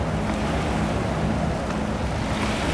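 River water washes up against the bank in the evening, a steady broadband rush and churn mixed with wind buffeting the microphone, loud and continuous with no one talking.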